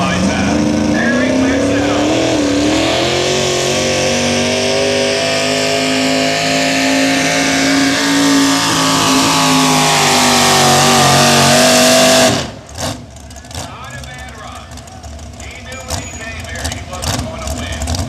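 A superstock four-wheel drive pull truck roars loud and close at a tractor pull, its engine revving in one long sustained run with pitch climbing then easing, before cutting off abruptly into quieter crowd and background noise.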